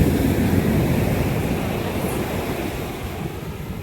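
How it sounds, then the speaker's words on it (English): Ocean waves roll in on a quiet beach in Guadeloupe, a continuous broad wash of surf with some wind buffeting the microphone, steady and fairly loud without any voices. "The only noise here is the sound of the waves coming in."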